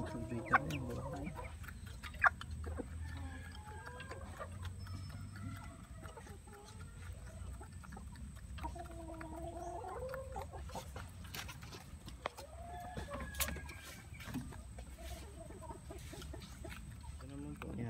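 Native breeder hens and roosters cluck and call intermittently around a farm yard after a typhoon, fairly close, with a person talking over much of the scene.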